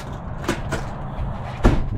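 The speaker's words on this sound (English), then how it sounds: "let me get this door." A few short knocks and clunks, then a louder bump near the end, like a motorhome door being handled and pushed open, with a low hum underneath.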